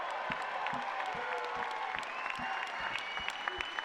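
A crowd applauds at a Shamrock FC salute to military veterans, with scattered hand claps standing out over a steady murmur of cheering voices, moderately distant and fairly quiet.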